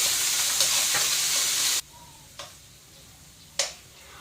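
Carrots for pancit canton stir-frying in a hot pan, a loud sizzle that cuts off sharply partway through and leaves quieter crackling broken by a couple of sharp utensil scrapes, no voices.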